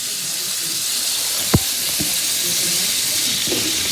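Onion rings sizzling in hot frying oil, a steady dense hiss with a few faint clinks of a utensil, while a voice talks lightly over it.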